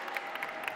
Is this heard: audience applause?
yes